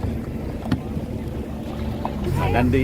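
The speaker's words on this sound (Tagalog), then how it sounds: "Nandito na po kami sa speedboat." Speedboat ride off Boracay, a steady low rumble of engine and water with wind buffeting the microphone, and voices talking over it toward the end.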